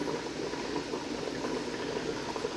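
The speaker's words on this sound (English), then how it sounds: "So as you can see, it's boiling." Bread and butter pickle brine boiling in a pot on a stove, a soft steady bubbling hiss with faint rapid pops, quiet and continuous.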